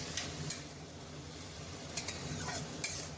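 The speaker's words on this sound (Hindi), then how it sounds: "5 मिनट तक इसे चलाते रहना है यूं ही, क्योंकि जब तक बैंगन का भरता भुनता नहीं है अच्छे से तब तक टेस्ट नहीं आता है" Eggplant bharta roasts and is stirred in a pan, a low steady sizzle under repeated scraping and clinking of a spoon against the pan, close and unaccompanied by talk.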